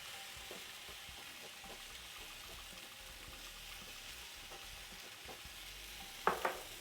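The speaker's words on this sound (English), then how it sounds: "We're going to spritz some oil on the top." Oil is spritzed onto food frying in a pan, with a soft steady sizzle throughout and a couple of short, sharp spray bursts near the end.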